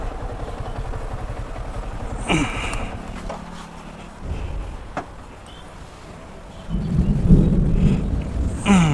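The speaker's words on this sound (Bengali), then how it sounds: "কালো মেঘ হয়ে হুট করে বৃষ্টি শুরু" A sudden rain shower with thunder on a hilly road near a Sajek army camp, a steady hiss of rain with low rumbles, swelling louder toward the end.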